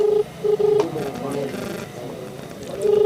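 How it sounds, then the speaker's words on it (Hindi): A telephone call is placed, with short steady beeping tones repeating at the start and returning at the end, while a person talks in between. "एक बार और इनको फोन करते हैं हम।"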